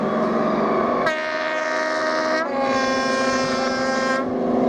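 An F40PH diesel locomotive, its loud multi-tone horn blaring in sustained blasts with a brief break, over the engine's rumble, close and dominant throughout.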